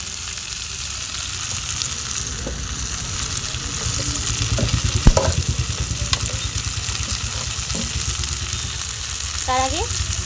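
Cauliflower and potato frying with spices in a wok give a steady sizzle with light stirring scrapes throughout and a brief louder clatter midway.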